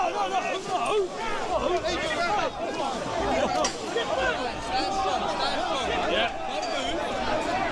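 Protesters fill a street as police push into the crowd, a dense, continuous hubbub of many shouting and talking voices close by with overlapping chatter throughout.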